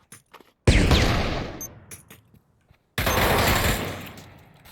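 Gunfire in the Pavlov VR shooter game during a competitive match: a loud burst that rings out and fades, a pause, then another heavy burst, with faint small clicks before.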